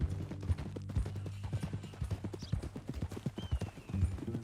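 Horse hooves clip-clopping in a steady walking rhythm in the video game Red Dead Redemption 2, fairly close, with a low background hum and occasional faint extra sounds.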